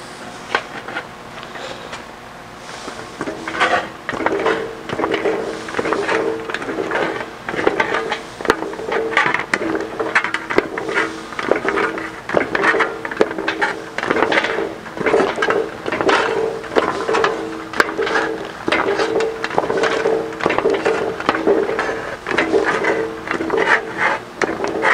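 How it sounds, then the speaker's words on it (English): Metal shrinker working a steel Jaguar E-Type fender panel, a continuous run of rapid, rhythmic mechanical clunks and squeezes from close by, steady throughout with no voices. "So let's go over to the shrinker and we'll shrink that a little bit"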